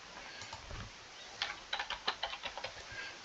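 A computer keyboard is typed on in a quick run of close, crisp key clicks, preceded by a brief softer stretch, with no talking.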